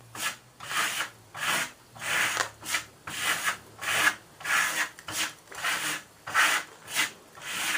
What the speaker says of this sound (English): we're just basically smoothing out our finish, and begin to apply